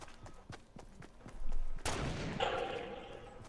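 A close gunfight in Fortnite near a factory: a rapid run of sharp gunshots, then a loud sustained burst of fire and explosive rumble, no talking.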